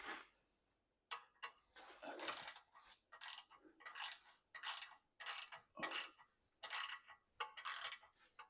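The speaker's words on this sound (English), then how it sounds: "I'll start tightening this bolt down. And by tightening the bolt down, it's going to pull the bushing right out into this housing here." A bolt is tightened with a ratchet to press a control arm bushing into its housing on a rear suspension, giving repeated bursts of ratcheting clicks separated by short pauses, close and fairly loud.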